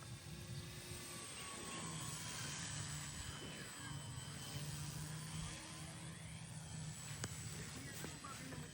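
An FMS F-22 radio-controlled model jet flies overhead with a steady, loud whooshing engine whine that swells and fades slightly, while people talk nearby.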